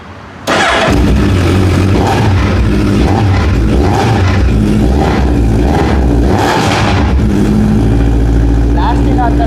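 A Suzuki Hayabusa with an Akrapovic full-system twin-silencer exhaust fires up and revs, a loud close roar that swells and falls through several throttle blips and then settles to a deep idle.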